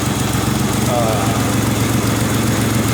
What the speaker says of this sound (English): we'll go ahead and let it warm up, and then I'll take it out on the street.